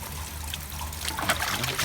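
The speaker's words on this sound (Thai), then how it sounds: "น้ำนี่มาแล้วนะฮะ เข็นแล้วน้ำแรง ขึ้นมาแล้วนะฮะล้นแล้วนะฮะ" Water gushing and overflowing while a pool pump is being primed, a steady loud trickling and splashing flow that grows stronger toward the end.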